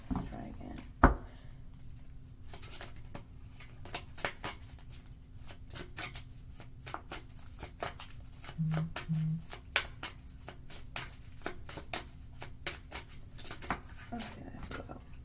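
Tarot cards being shuffled by hand, a run of quick, close, papery riffles and taps that carries on steadily, with faint voice in the background.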